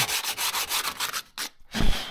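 Steady rhythmic rasping of old, dirty sandpaper rubbed back and forth over a Peugeot 205 car body, close up, with a short pause before a final heavier stroke.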